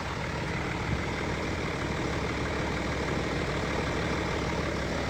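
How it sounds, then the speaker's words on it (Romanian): A heavy truck engine idles with a constant, dense rumble throughout, steady and close, with no voices. "Auziți cum se aude motorul ăsta de bine."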